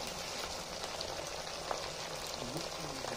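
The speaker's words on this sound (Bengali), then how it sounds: "রসুন, আদা আর পেঁয়াজটা দিয়ে খুব ভালো করে নেড়ে ছেড়ে নিচ্ছে, লাল লাল করে একটু ভেজে নিচ্ছে মশলাগুলো।" Spices with garlic, ginger and onion frying in a pan over a clay stove, a steady close sizzle throughout with faint stirring scrapes.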